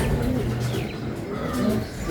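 Racing pigeons arriving at the loft after a 406 km race: soft, close cooing and fluttering amid faint ambient noise, brief and low.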